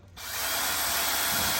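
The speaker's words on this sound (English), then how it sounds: "you're going to use a 1/4 inch masonry drill bit." A power drill fitted with a 1/4 inch masonry bit bores into brick for a chimney fireplace cap damper install, a steady, close, grinding whir that starts suddenly and holds without a break.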